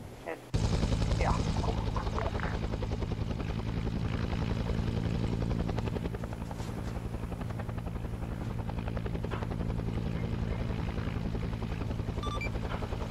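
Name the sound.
helicopter flying in a video game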